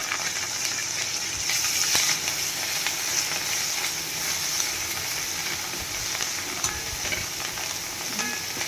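Taro leaves dropped into garlic sizzling in hot oil with asafoetida, a loud, steady close frying hiss with crackles and occasional stirring clatter, continuing throughout without any voices.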